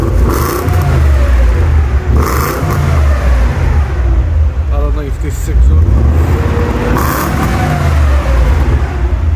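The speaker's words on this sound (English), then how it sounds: "it is literally sounds like a broken car" BMW E31 840ci V8 with a straight-pipe exhaust, revving loudly in repeated bursts: a rough, raspy roar that swells and falls several times, close up, with someone talking over it.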